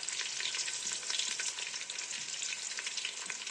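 A chopped medium onion fries in hot oil with a steady, bright sizzle that crackles evenly and holds close and moderately loud with no voices.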